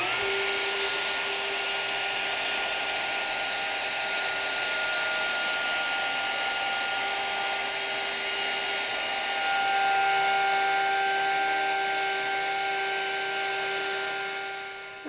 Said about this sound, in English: So I'll plunge the router in at this point, feed over to this location, and then retract the router out.